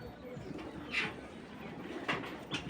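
Racing pigeons coo softly in a loft, with a few short bird calls standing out over a low, continuous background murmur.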